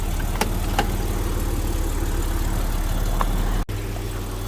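A 1985 Jaguar XJ6 idles with its air-conditioning compressor spinning, giving a steady low engine hum with a few faint ticks and a brief dropout near the end.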